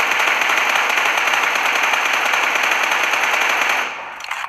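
Sustained automatic gunfire from a crouched, scoped shooter in PUBG Mobile, a loud continuous rapid burst lasting about four seconds before cutting off, then a brief quieter tail.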